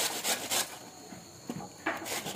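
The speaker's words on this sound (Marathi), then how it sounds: "आपली काकडी तर किसून झालेली आहे व्यवस्थित" Cucumber being grated on a hand grater in a home kitchen, a steady rough rasping rub in repeated strokes, close and moderately loud, no voices.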